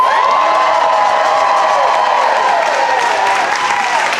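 A comedy club audience at a New York one-liner show cheers and applauds for comedian Zilla Bodness, a loud, steady roar of clapping, whoops and shouts filling the room.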